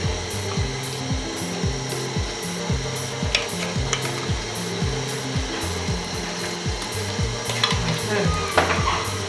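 Tomato paste stirred into a tilapia stew, repeated rhythmic scraping and stirring strokes over a constant bubbling sizzle, close and steady for several seconds, with no talking.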